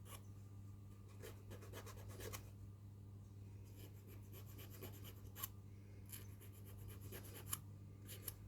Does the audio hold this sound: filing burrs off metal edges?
yes